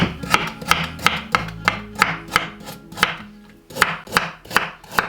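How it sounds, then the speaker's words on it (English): A knife chopping cabbage on a cutting board for soup, a quick steady run of sharp, evenly spaced chops, loud and close, with no talking. "now my next thing I want to do is I'm going to chop it up"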